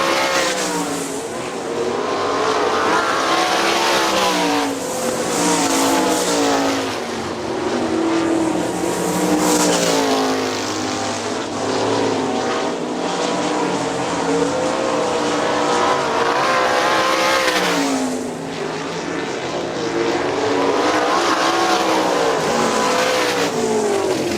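410 sprint race cars roar around Hartford Speedway Park in Michigan, loud engines rising and falling as cars pass in waves, a continuous racing din with no talk over it.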